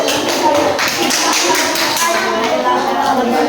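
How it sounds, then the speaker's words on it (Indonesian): A class of fifth-grade schoolchildren claps for a classmate, a brisk burst of many small hands patting together in an indoor classroom, with voices mixed in beneath. "Ayo, tepuk tangan buat Danis"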